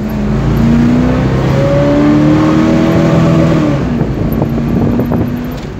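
A 1973 Dodge Dart engine with an automatic transmission revs loudly and close, its pitch rising and falling in long sweeps before settling into a rough idle.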